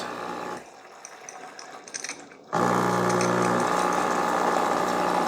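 A quiet stretch gives way to the loud, steady buzzing pump of a Farberware espresso maker running hot water, droning on without a break.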